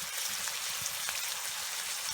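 Cajun meal frying in a cast iron skillet at a lakeside campsite, a steady dense sizzle with fine crackling pops, close and continuous with no talking.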